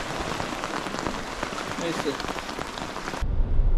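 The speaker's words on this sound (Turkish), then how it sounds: "Yağmur bastırdı." Steady rain falls on a seaside fishing spot on the Croatian coast, a dense hiss of drops on surfaces that grows heavier and closer near the end, with a brief spoken word over it.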